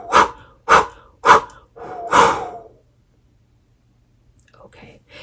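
Four forceful breaths are blown onto a clear quartz crystal in a crystal healing ritual. The close, breathy bursts come in steady succession over about two and a half seconds, followed by near silence.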